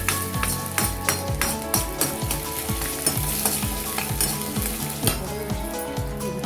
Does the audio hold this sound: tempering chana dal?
yes